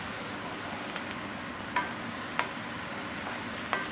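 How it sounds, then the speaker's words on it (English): Food being stirred in a very hot pan for roast lamb and vegetable pies: a steady low sizzle with a few sharp scraping clicks of the utensil against the pan, close and fairly quiet, no talking. "Give this a bit of a stir."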